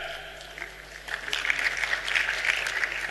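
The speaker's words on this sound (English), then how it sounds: "Please, another round of applause for him" Applause for a retired Deputy Controller General at a Nigerian Immigration Service 60th anniversary ceremony, a crowd clapping that begins softly and swells into fuller, steady applause from a large room.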